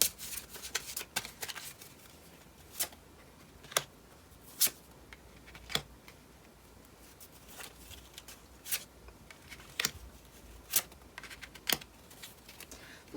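Tarot cards are shuffled and drawn, a quiet run of crisp flicks, snaps and soft slides scattered irregularly over several seconds, close by.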